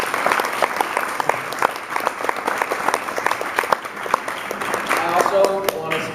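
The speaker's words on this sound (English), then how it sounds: "I would like everybody to give a round of applause to our great panelists." An audience applauds panelists at a panel discussion on web curation, with dense, continuous clapping filling the room for several seconds and a few voices faintly underneath.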